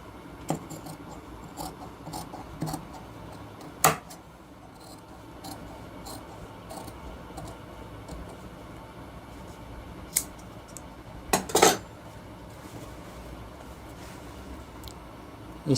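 Scissors cut through shirt fabric on a tailoring table, quiet rasping snips scattered over a low background, with a few sharper knocks and rustles in between.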